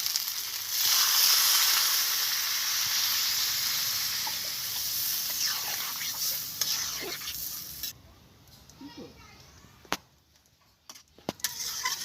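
A prawn and green jackfruit curry fries in a village kitchen with a loud, steady sizzling hiss. The sizzle cuts out sharply when water is added, leaving quiet bubbling and a few clinks.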